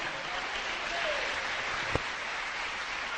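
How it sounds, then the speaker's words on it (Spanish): Applause from a church congregation during a sermon: a steady broadband wash of clapping holding evenly through the whole span, with one sharp louder clap near the middle and no speech over it. "Den un aplauso al Señor."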